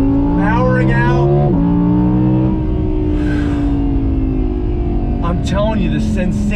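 A 2020 Audi R8 Spyder supercar accelerates hard out of a turn, its engine note rising loud and close through the gears with a brief shift break, then sweeping on as the car powers away.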